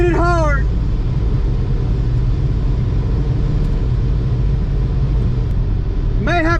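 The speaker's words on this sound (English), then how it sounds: "Hit that rev limiter. Hit it hard." A supercharged, cammed 5.7 R/T Hemi engine is held against its rev limiter, producing a loud, steady, close roar throughout, with rising and falling pitch sweeps at the very start and end.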